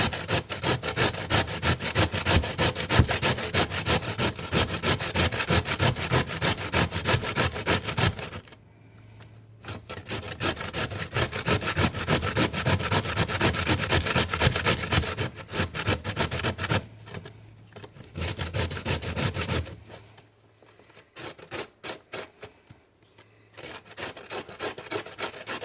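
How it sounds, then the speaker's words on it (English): Two potatoes rubbed against a grater for hash browns, a steady rasping scrape in long bursts, close and fairly loud, with brief pauses between the first and second potato. "I have 2 potatoes that I'm going to grate."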